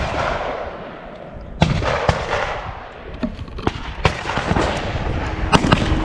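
Sharp 9mm handgun shots ring out at the Calverton shooting range on Long Island, several irregular reports over a few seconds, some close and loud, others fainter from nearby lanes.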